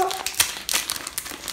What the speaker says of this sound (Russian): Сейчас мы его разрежем.